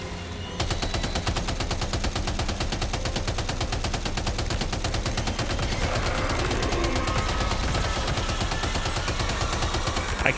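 Sustained rapid gunfire from the Death Stranding 2 video game, a dense continuous burst of automatic shots running loud and steady throughout, with no talking.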